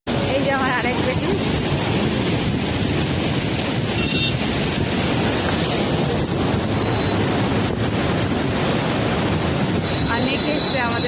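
Water surges through the Durgapur barrage in a constant, loud, rushing roar, buffeted by wind noise against the microphone, with people talking faintly in the background.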